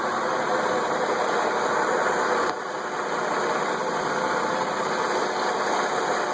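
Chevrolet Trailblazer with a 4.2L engine and a low oil pressure problem, running at a steady, loud idle with a constant drone that dips slightly partway through.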